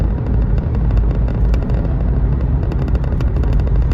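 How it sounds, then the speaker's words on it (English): Loud, continuous rumbling exhaust roar from a faulty car exhaust pipe, with a rough, rattling pulse, steady throughout, heard from inside the car during a driving lesson. "What's that noise? That's your stupid exhaust pipe."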